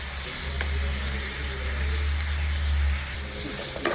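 Tomatoes and salt sautéing in a pan for Tamil pirandai kara kulambu, a continuous close sizzle and crackle of frying, steady and fairly loud throughout.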